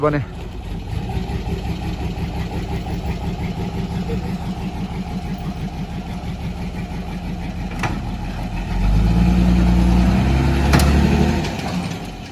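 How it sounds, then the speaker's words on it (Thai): Isuzu FC tow truck engine runs steadily and then revs and labours louder near the end while pulling a van free, with people talking over the engine throughout. "เราใช้ FC เจ้าคุณปู่คันนี้เราจะลากรถตู้ออกมา"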